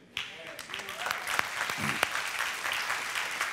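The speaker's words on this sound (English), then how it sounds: "That'll teach you to make them clap for me next time." Church congregation applauding during a service, a burst of clapping that starts abruptly and continues steadily, with a few loud close claps and some voices mixed in underneath.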